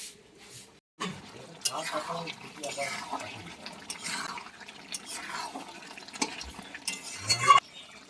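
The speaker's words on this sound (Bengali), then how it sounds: "এবার ভালোভাবে কষিয়ে নেবো মাটনটা" Mutton being stirred and sautéed in a pan for a potato mutton curry, with irregular scraping and stirring bursts at moderate level after a short quiet start.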